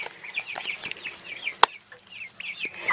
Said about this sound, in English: there's the chicken coop